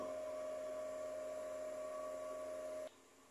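Steady whirring hum of a printer running a head clean cycle, a close, continuous tonal drone that cuts out sharply near the end, leaving faint room noise, with no voices.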